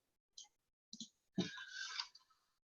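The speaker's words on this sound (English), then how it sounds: "you'll see me typing in what I see on my screen" Keystrokes on a computer keyboard during a version-control demo: a couple of isolated clicks, then a brief dense burst of typing, close and fairly quiet, with no talk.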